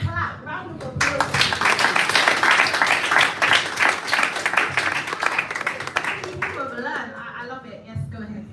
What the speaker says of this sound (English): give yourselves a clap. Round of applause.